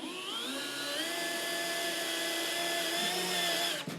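A power drill drilling heavy metal whines steadily at high pitch, its tone rising slightly as it bites and cuts a chip, loud and close, then cuts off abruptly near the end.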